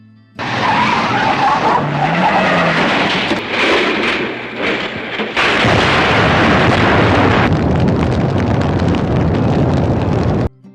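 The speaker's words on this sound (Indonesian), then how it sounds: "Akiko dikispret bapaknya menyetir dengan ugal-ugalan hingga akhirnya mereka kecelakaan dan Ken tewas di tempat kejadian." Reckless car driving ending in a crash in a film scene, loud roaring engine and skidding with heavy impact noise, dense and continuous throughout with no speech.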